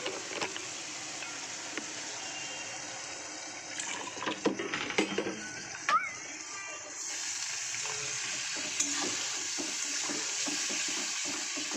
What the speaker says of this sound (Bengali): আর একটু জল দেব, দিয়ে মশলাটা আমি ভালো করে কষাবো।